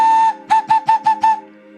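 Handmade clay bird ocarina with a freshly cut whistle hole gives one sustained clear whistle tone, then five short separate toots in quick succession, loud and close with no talking.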